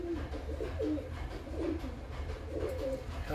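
Breeding pigeons coo softly and repeatedly up close, a low rolling rhythm of short bursts over a quiet background.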